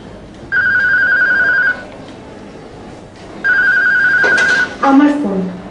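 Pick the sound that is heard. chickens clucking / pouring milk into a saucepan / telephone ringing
telephone ringing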